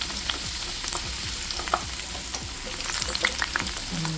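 Ingredients for bagara rice sizzle steadily in hot oil, with a constant frying hiss, scattered crackles and pops, and intermittent scrape-and-stir sounds from a spoon in the pan, close and moderately loud.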